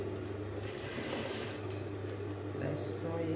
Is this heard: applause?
no